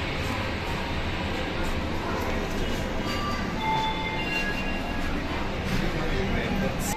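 Steady rumble and clatter of a moving Yesvantpur–Mangaluru express train through dense forest, continuous broadband noise with faint squeals, as heard from inside a carriage.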